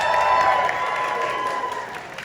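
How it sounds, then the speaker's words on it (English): An audience at a Realme Australia launch party in 2019 applauds and cheers, a dense burst of clapping that starts loud and tapers off over about two seconds. "give yourself a round of applause for being here"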